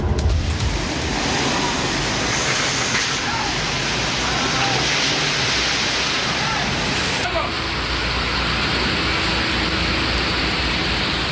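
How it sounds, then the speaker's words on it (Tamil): Heavy rain pours down in a steady, dense hiss that stays loud and unbroken throughout. "இடியுடன் கூடிய கனமழை பெய்தது"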